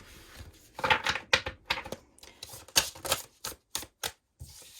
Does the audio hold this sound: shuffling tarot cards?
yes